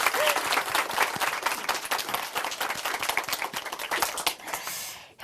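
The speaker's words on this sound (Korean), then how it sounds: "다시 한번 큰 박수 부탁드립니다." A church congregation applauds loudly and steadily, dense clapping filling the whole stretch before cutting off abruptly at the end.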